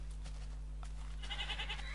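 On a small farm a goat bleats in a short, wavering run of cries over a steady low hum of background noise.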